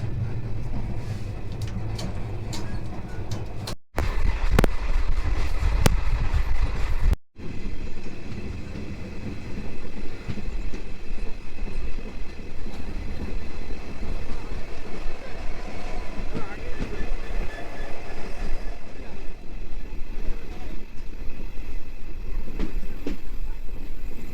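The Balurghat–Howrah Express passenger train rumbles steadily along the rails, heard from a sleeper-class coach, with a continuous rolling drone and faint rhythmic clatter, occasional voices in the background.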